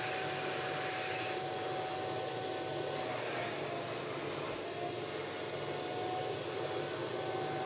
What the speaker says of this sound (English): Now, turn on both the spray and vacuum buttons at the same time.